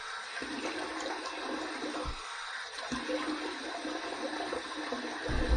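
Water drains from a bathroom sink during a head shave, a steady gurgling rush that runs continuously and close by with no talking.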